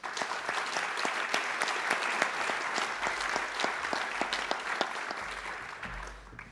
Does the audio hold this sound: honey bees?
no